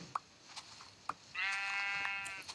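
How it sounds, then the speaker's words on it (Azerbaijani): Sheep bleating in the Minecraft video game: a single drawn-out, buzzy synthetic bleat of about a second, clear and close, after a few short clicks and pops. "Bu qoyunları kəs da"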